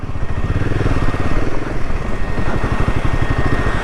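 A Royal Enfield Himalayan 450 motorcycle engine runs on a mountain ride between Rakchham and Chitkul, giving a loud, close, steady thumping pulse that continues without a break.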